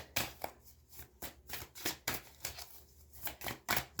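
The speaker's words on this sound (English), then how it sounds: "one more shuffle, and then I'm going to cut the deck with my left hand" Crisp, rapid riffling bursts of tarot cards being shuffled, repeated several times in quick succession, close and fairly quiet.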